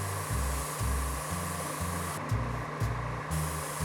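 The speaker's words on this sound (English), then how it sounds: "add some to the airbrush, and very lightly go over a Zenithal mini" An airbrush sprays thinned paint over a miniature, giving a continuous, close hiss with faint mechanical humming beneath.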